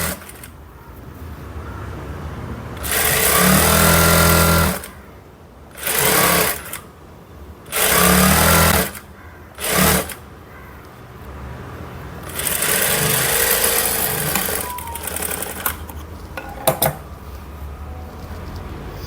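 A sewing machine stitches a half-inch folded bottom hem on a blouse in loud bursts of whirring, with several separate runs and short pauses where the fabric is handled.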